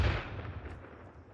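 Artillery and mortars firing together in ARMA 3, a single deep booming blast that rolls off into a fading rumble over about a second.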